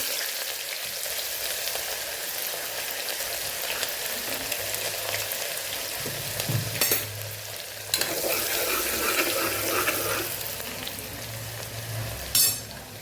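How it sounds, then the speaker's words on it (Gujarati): Onions fry in hot oil with cumin and coarsely crushed coriander for a Kathiawadi curry, a steady close sizzle with stirring scrapes and a few louder bursts. "અહીં આપણે ડુંગળી ઉમેરી દઈશું"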